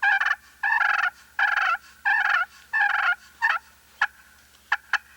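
A slate turkey call, played high on the striker, purrs in six rolling bursts, followed by a few sharp clicks, close and loud with nothing else heard.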